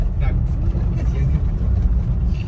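A Mazda BT-50 Pro pickup engine, new and running hot, revving under throttle with a loud, steady turbo-like drone and whine from inside the cab while someone talks over it.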